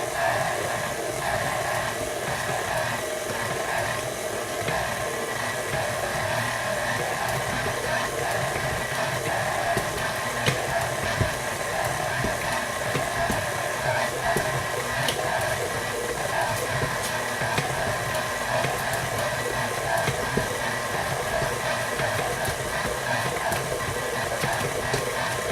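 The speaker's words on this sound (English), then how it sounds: "I can kind of hear the machine working hard now." A stand mixer kneads whole grain sourdough rye dough, its motor straining in a steady, continuous hum with a faint rhythmic churn, close and unbroken throughout.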